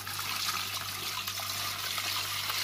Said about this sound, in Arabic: هنزل كمان بسم الله بالميه